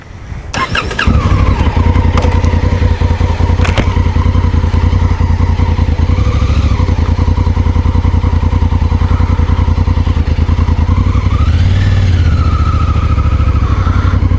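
A Honda CRF1000L Africa Twin adventure motorcycle rides along a road, its engine a steady, loud, close drone with brief rises in revs, running continuously throughout with no talking.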